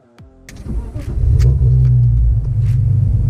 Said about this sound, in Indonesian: Sekarang kita nyalain Yuk, mobil.